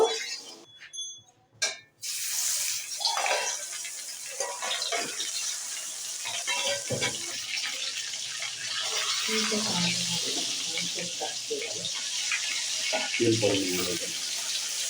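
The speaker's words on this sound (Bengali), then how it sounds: "আমি মাছ দুটো ভেজে নেব" Two sating fish frying in hot oil in a kadai, a loud, continuous sizzling hiss that starts after a short quiet moment and carries on steadily. A few faint knocks sound underneath.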